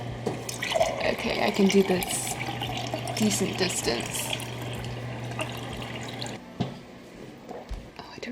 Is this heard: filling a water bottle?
yes